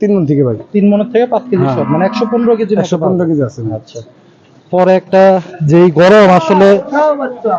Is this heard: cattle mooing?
yes